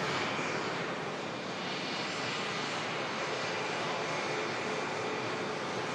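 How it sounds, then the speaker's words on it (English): A Finnair jet airliner climbing out after takeoff gives a continuous broad engine roar, steady and fairly loud with no breaks, heard from the ground at Manchester Airport. "Finnair climbs out."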